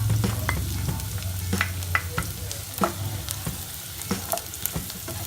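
Garlic fries in hot oil in a pan for pork humba, with a steady sizzle and repeated clinks and scrapes of stirring throughout, close and moderately loud, with no talk.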